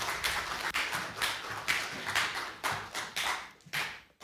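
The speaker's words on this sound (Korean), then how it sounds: "우리 큰 박수로 우리 목사님 맞이하겠습니다." A church congregation claps to welcome a pastor to the pulpit at a Sunday worship service, with loose, uneven bursts of hand claps rising and falling over about four seconds. No one is speaking.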